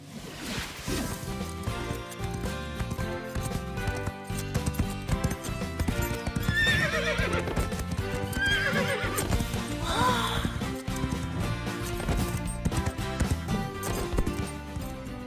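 Rhythmic hoofbeats clip-clop steadily under background music in the cartoon Horseland, while a horse whinnies loudly a couple of times in the middle.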